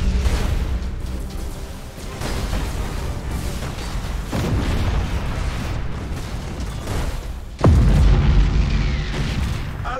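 Thunderhawk bombardment in a sci-fi strategy game, with deep rumbling explosions and booms rolling one after another and a sharp, heavy blast near the end that stands out above the steady background roar.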